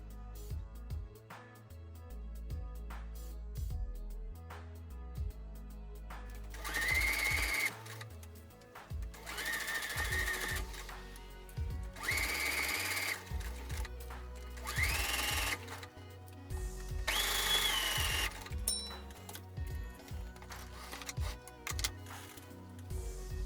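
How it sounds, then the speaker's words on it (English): A sewing machine stitches pasted layers of a handmade wedding dress in several loud bursts of fast whirring, separated by pauses and light clicks, close up with no talk. "All parts are pasted, it's time to sew them together."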